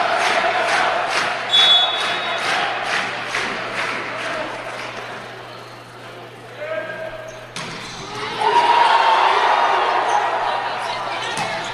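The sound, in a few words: volleyball crowd cheering after a spike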